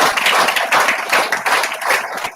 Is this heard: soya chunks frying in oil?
no